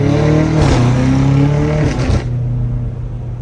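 BMW M5 Competition engine revving hard under acceleration, a loud, close, steadily climbing roar with rising harmonic tones that drops off abruptly toward the end as the throttle lifts.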